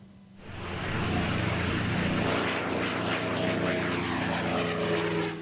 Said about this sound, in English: How many times can you see a P-51 Mustang in the air before it's too much?